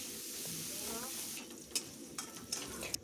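Bitter gourd frying in oil with salt and turmeric, a steady soft sizzle throughout with a few sharp clinks of a utensil against the pan in the second half.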